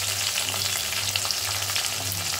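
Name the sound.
tomatoes frying and being stirred in pan for palak paneer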